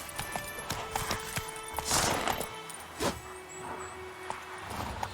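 Horse hooves clopping in The Witcher 3, several uneven hoof strikes close by amid game ambience, with a louder scuffle and thud midway.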